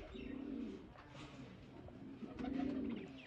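Sialkoti pigeons coo in two soft, throaty bursts with a pause between, close by over a faint background murmur.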